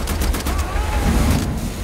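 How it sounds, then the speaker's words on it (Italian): Dual machine guns fire continuously in Wolfenstein: The New Order, producing a dense, loud rattle of rapid gunshots that runs unbroken for about two seconds. "Doppie mitragliatrici."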